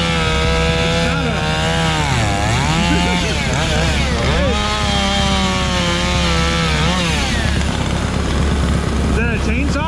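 Chainsaw cutting loudly, the engine pitch dropping under load and climbing again in repeated swoops, with a faint voice underneath.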